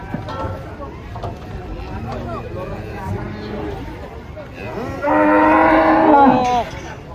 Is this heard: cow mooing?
yes